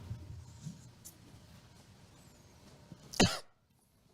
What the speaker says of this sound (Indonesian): Ya, itu batuk.